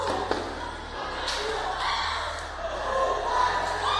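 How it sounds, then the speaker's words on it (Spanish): Frantic screaming and crying in a school classroom as an armed student with a machete walks in and a teacher sobs; played back as a recording, the distressed voices stay steady, muffled and continuous with scattered thuds. "Son gritos el desgarradores. llanto de la maestra porque lo ve entrar con el machete, Pame."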